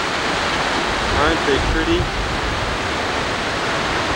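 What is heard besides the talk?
waterfall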